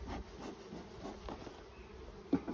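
Honey bees buzz around an opened hive during a brood check, a soft continuous droning hum with brief louder passes near the end.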